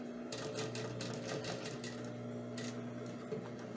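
A sewing machine stitches a backstitch on a child's romper, with quick rhythmic needle bursts over a steady motor hum. The stitching pauses briefly and then resumes.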